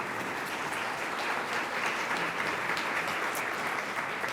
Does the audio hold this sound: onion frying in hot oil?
no